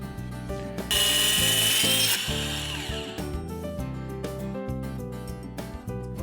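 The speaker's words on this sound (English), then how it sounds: "it's good to have a little circular saw at your disposal" A small circular saw trimming the end off a louver piece for a window installation: the blade whines up loudly, cuts for about a second with a harsh high buzz, then spins down while clunks and rattles of handling follow.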